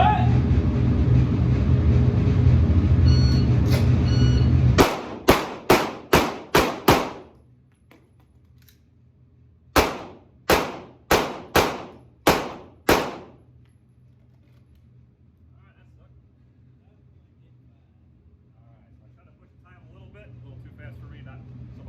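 Pistol shots fired at targets on an outdoor range: two quick strings of about five and six sharp, loud reports each. Steady noise comes before the first string and quiet follows the second.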